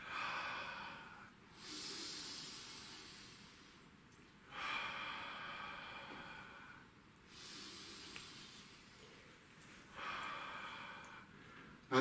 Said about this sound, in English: And breathing up into your chest.